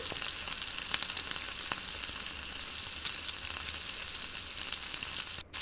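Vegetables and rice frying in oil for egg fried rice, a steady broad sizzle with occasional light scrapes from stirring, fairly even and moderately loud throughout.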